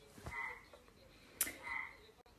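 Frogs croak during the breeding season in two buzzing, rasping calls, each about half a second long, faint and at a distance, with no talking.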